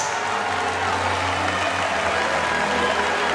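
An indoor crowd at a Frisian stallion show claps in steady, dense applause that holds at an even level throughout, with no voices rising above it.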